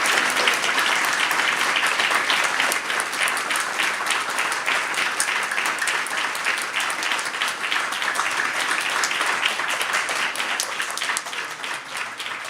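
Sustained audience applause at a memorial service, dense steady clapping from a crowd lasting throughout without letup.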